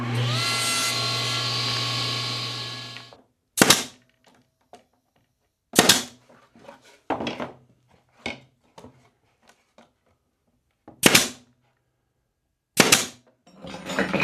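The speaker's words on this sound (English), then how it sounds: "Just going to cut them to length using my very handy mini table saw sled." Mini table saw with a sled cuts small wood pieces to length after the motor winds down, giving several short sharp cutting bursts separated by quiet gaps, close and loud.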